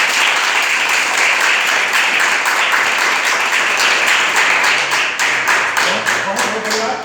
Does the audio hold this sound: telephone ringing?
no